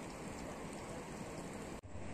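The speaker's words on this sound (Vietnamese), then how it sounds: "Hết mưa, mưa lại, hết mưa," Steady rain falls continuously outdoors during a fishing trip, a dense even hiss broken only by one brief dropout near the end.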